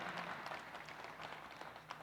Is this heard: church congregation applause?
yes